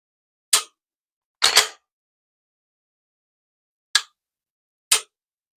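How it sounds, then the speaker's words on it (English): Sharp dry-fire trigger clicks from a Smith & Wesson M&P striker-fired pistol: four isolated snaps, with the second one doubled, each standing alone against silence. "Love that trigger pull."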